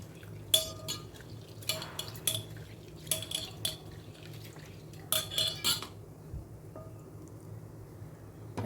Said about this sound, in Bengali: এখন ডালটাকে আমি জল পাল্টে পাল্টে তিন থেকে চারবার খুব ভালো করে ধুয়ে নেবো